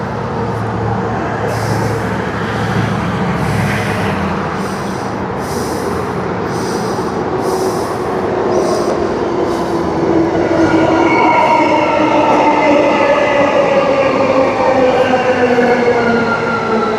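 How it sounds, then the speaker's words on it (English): A three-car train arrives at Queens Park station on its way to Cockburn Central, its rumble and squealing wheels building loudly and steadily as it pulls in alongside the platform, with no talking. "We do have 3 car train arriving in for Cockburn"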